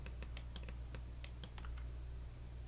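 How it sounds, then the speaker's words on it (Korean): Mouse clicks while drawing with the spline pen tool in Cinema 4D R23 on a computer, a series of sharp, irregularly spaced clicks at close range over a steady low hum, with no talking. "클릭, 클릭, 또 이런 식으로 클릭 또는 클릭 드래그, 또 클릭"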